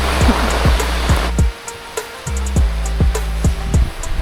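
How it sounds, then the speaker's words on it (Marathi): Heavy monsoon rain falls during a forest trek, a dense rushing hiss that is loudest at first and then eases, with sharp repeated knocks and drips cutting through the steady downpour. "खूप जास्त मस्त पाऊस पण आता सुरू झालेला आहे"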